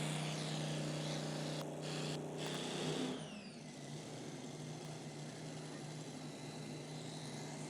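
A super modified pulling tractor's engine roars loud and steady on the pulling track at a Pro Pulling League event, with a few sharp breaks in the sound early on before it drops to a lower, continuous drone as the pull goes on.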